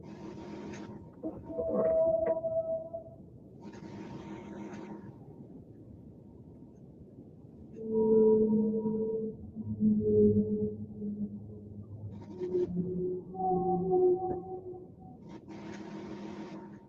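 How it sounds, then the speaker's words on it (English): A recording of whale song plays, with long eerie tonal moans and rising and falling calls that come in separate phrases with quieter gaps between them. "It's the whale song."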